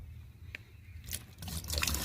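Water pours and trickles into a farm tank, starting as a faint dribble and then swelling into a steady, louder splashing flow toward the end.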